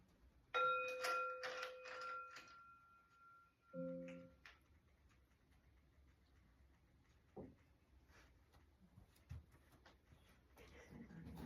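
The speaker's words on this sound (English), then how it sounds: "that'll bring us up to chiming bowl" Chiming bowl struck during a gathering, a clear ringing tone that sustains and fades over a couple of seconds, followed by quieter clatter and soft room noise, with a few voices murmuring.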